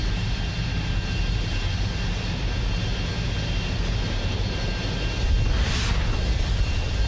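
Fighter jets taking off in a science-fiction film: a loud, continuous roar of jet engines that swells slightly toward the end, with a brief whooshing pass overhead and no speech.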